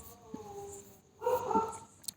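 Dogs bark and whine outdoors in a village at night, a drawn-out howling cry rising midway through, moderately loud and somewhat distant, with a few sharp yips near the end.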